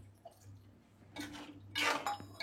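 Water splashes into a cooking pot of aubergine, potato and dried fish in a home kitchen, starting as a short burst and then a louder, longer pour that rattles faintly against the metal.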